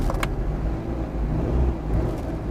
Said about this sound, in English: Yeah, sounds like a smooth engine.